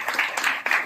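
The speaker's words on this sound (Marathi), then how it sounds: "एका त्यांचं आपण टाळ्या वाजून स्वागत करूया" Audience clapping to welcome a guest at a trade exhibition, a short patter of hands from a small crowd, fairly close and steady for about a second.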